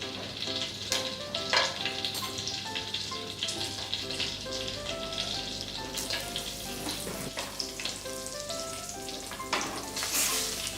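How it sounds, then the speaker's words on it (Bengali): Whole garam masala spices hit hot oil for a soya granules korma gravy, a bright close sizzle and spitting crackle with scattered stirring clinks and a faint background hum, no talking. "তেলটা গরম করে নিয়েছি গ্রেভি বানানোর জন্য। এবার এতে গোটা গরম মশলাগুলো ফোড়ন দিয়ে দেব।"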